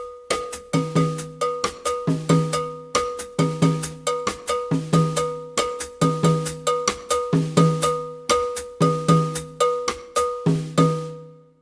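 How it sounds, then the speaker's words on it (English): On a drum kit, a right-hand cowbell-style bell pattern locks together with a left-hand conga pattern in a 12/8 Afro-Cuban groove, giving crisp metallic hits over pitched drum tones in a steady repeating cycle. "combine the bell pattern with your right hand with the conga pattern with your left hand"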